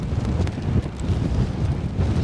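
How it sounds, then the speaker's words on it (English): Strong gusty wind at Edinburgh airport roars steadily across the microphone, a continuous low, buffeting rumble with surging gusts and no voices. "at the moment it's not raining, so it's just very windy"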